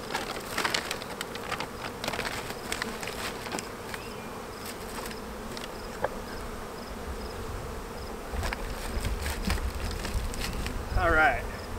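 A dense, steady drone of honey bees buzzes close around a hive outdoors, with faint bird cooing in the background throughout.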